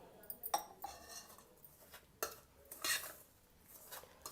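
Oil stirred into ground sugar, nuts and chocolate in a bowl for an eggless chocolate cake, heard as quiet, scattered spoon scrapes and light clinks against the bowl, close but faint, with no talk.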